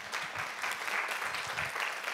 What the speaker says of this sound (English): An applause for you